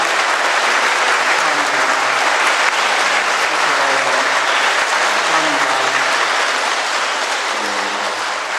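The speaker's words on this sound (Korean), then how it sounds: "우리 같은 멤버 되시는 박수 한번 해주세요" A church congregation applauds at a Sunday Mass to welcome newly baptized members, a dense, steady ovation filling the space throughout at an even loudness.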